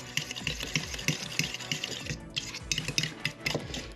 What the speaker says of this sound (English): I'm just going to use a fork here and try to whisk everything together.